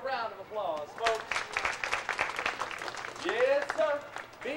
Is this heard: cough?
no